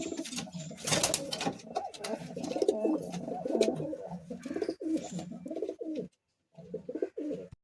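Madrasi pigeons cooing steadily in a loft, overlapping low throaty coos close by, with a few brief sharper sounds and a short silent break near the end.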